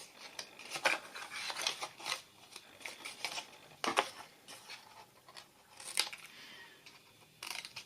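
Scissors snipping through card box flaps along a score line and at an angle, a series of short rasping cuts spaced irregularly, close and fairly quiet with no talking.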